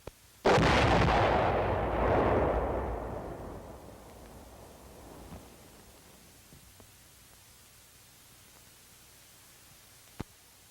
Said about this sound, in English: the firing wires are attached to the blasting machine. The monitor is checked until one of the lights goes out. Then the charge is fired.